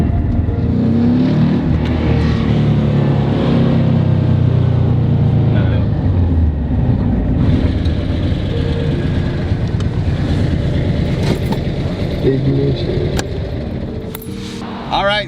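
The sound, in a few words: 1965 Porsche 356 C engine revving at high RPM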